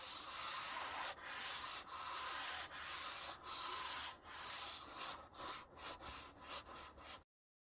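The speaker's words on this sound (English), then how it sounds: "I'm going to wet my magic sponge, squeeze it out, and then I'm going to gently agitate." A damp magic eraser sponge scrubs pop-up camper canvas in steady back-and-forth rubbing strokes, close and continuous at first, then breaking into shorter, quicker strokes toward the end.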